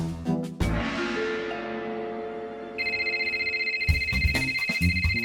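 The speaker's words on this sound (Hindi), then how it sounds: "मोबाइल है, डोरबेल नहीं जो बजाया जा रहा है।" Cartoon mobile phone ringtone, a bright repeating electronic melody that starts partway through and rings steadily, loud and close, over a busy animated soundtrack with music beforehand.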